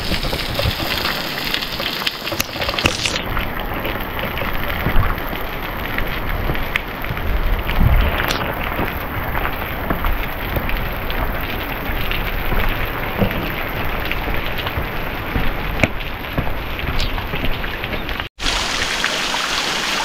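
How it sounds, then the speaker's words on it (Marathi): Steady light rain hissing and pattering nearby on the trail at Bhaskargad, a continuous dense patter with no voices, ending in a brief cutoff. "छोटा पाऊस आहे त्यामुळे काही इश्यू नाही आहे"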